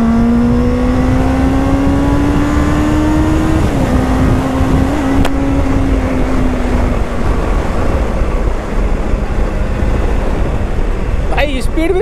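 A Benelli 600GT motorcycle accelerating hard, its engine note rising steadily through the gears with a brief dip at a shift, heard close up over loud continuous wind rush.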